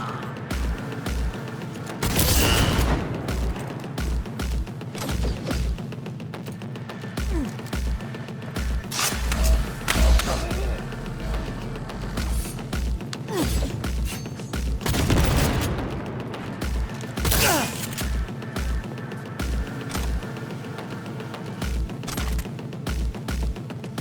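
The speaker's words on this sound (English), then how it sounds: "Keep firing, goddammit!" Gunfire in the video game Cyberpunk 2077: repeated bursts of rapid shots and several heavy booming blasts, with shouting voices mixed in over a steady background.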